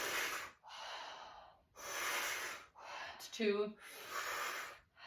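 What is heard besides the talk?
deep breathing during a fascia stretch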